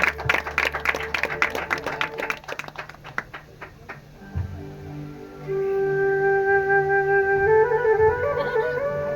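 Audience clapping at the opening of a one-act Marathi stage play, a dense run of claps for about four seconds that thins out, followed by sustained tonal music.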